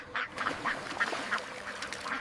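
Magpie ducks on a farm quack in a series of nasal calls at a fairly steady pace, close by and clear, with no talking.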